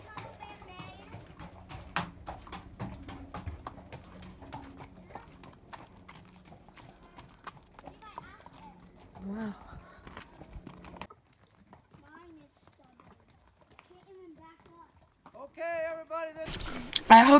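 Steady clip-clop of horse hooves on a trail ride in Bryce Canyon, faint and rhythmic, with children's voices and chatter nearby; the hoofbeats fade out and louder talk bursts in at the end.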